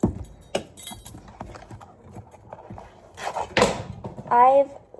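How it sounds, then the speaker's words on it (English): A spatula drops in a home kitchen during cookie-bar baking, hitting with a sharp clatter and a few small clinks, then a quiet pause before a voice speaks briefly. "What fell? Oh, my spatula."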